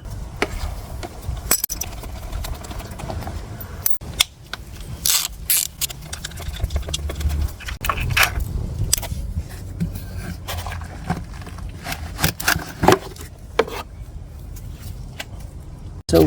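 Bolts come off the CVT cover of a Suzuki Burgman 400 K7 scooter in a workshop, with irregular metallic clinks, ratcheting and tool handling at close range.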